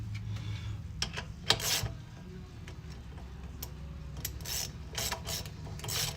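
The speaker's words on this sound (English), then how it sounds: "I'm gonna go with a manual wrench on those." Manual ratchet wrench tightening engine bolts with no head gasket fitted: quiet, close, rapid clicking in short bursts, separated by pauses, over a low steady hum. No one speaks.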